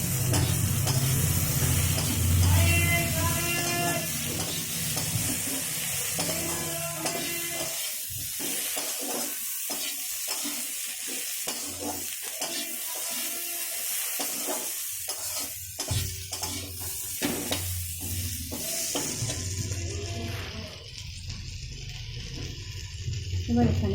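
Chopped tomatoes fry in a pan for a Bengali home recipe, a continuous loud hiss and sizzle with scattered scraping and stirring strokes, heard up close, with a voice speaking over part of it.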